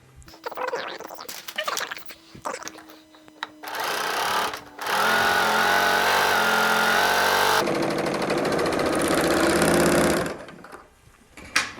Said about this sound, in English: I'm going to serge the hem first.